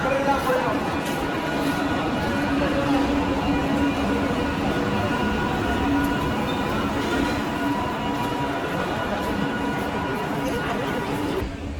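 Train at Shyamnagar station on a cold morning, a steady loud rumble of rolling carriages and rail noise filling the whole stretch, with faint chatter from people nearby underneath.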